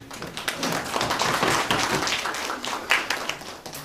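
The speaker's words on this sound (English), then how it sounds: "Another round of applause." Audience applause at a workshop on generative AI in higher education, a steady patter of many hands clapping at moderate volume throughout, no talk.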